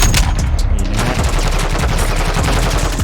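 Heavy gunfire in the Call of Duty: Modern Warfare 2 open beta, a loud, continuous rattle of shots and battlefield din packed tightly together with no pause.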